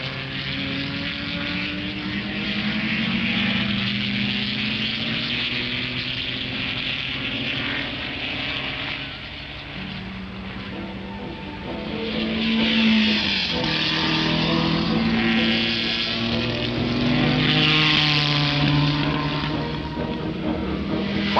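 1961 Formula 1 race cars, including a Cooper Maserati, at Ardmore Circuit, engines droning in a continuous rasping roar that swells and fades as cars pass, pitch sliding up and down over a long stretch, with no voices.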